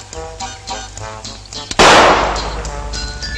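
A loud gunshot blast in the retro video game It Came From the Desert, a single sharp burst with a decaying rumble after a stretch of lower-level game sound.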